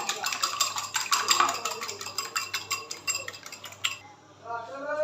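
A spoon beats a mixture with salt and yellow food colour in a bowl, producing quick rhythmic clinking strokes that run close and fairly loud before stopping, followed by a faint quieter patch.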